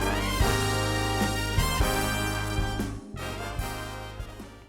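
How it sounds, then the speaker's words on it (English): A professional multi-tracked recording of a composition plays, rich sustained instrumental harmony with recurring low rhythmic hits, continuous and moderately loud with a short gap partway through. "getting a professional multi-tracked recording that sounds like this."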